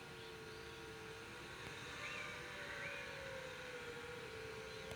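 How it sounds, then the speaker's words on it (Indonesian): A camera drone flying near Mount Merapi slows down to land, heard as a faint, distant, steady hum whose pitch wavers slightly over a few seconds, with no talk. "Oke, suara drone sudah kedengeran, saya kurangi kecepatan."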